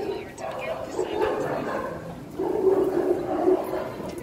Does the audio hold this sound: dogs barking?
yes